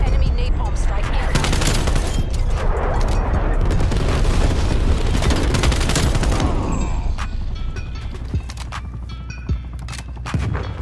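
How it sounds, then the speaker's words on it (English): A napalm strike in Black Ops Cold War sets off a dense barrage of booming explosions mixed with rapid gunfire, heavy and continuous, then thinning to scattered blasts. "Enemy napalm strike in."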